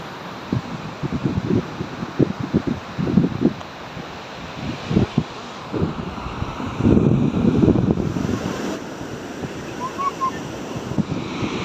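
Sea waves wash onto the beach at Puri in the evening, a steady broadband roar with gusty wind buffeting the microphone and surges of surf rising and falling, with no talk heard.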